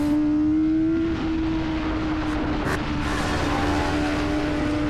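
Racing motorcycles at a sARL club race run a track, a loud engine drone holding a steady high pitch that builds as the bikes pass close.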